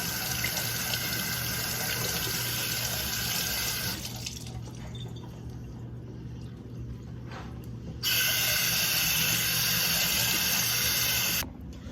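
Tap water runs steadily into a sink, its flow briefly softening as hands shape a polymer ball under the stream, then gushing fully again.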